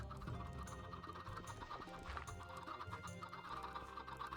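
Chickens clucking in the Minecraft video game, a scatter of short clucks over a faint busy background with no speech.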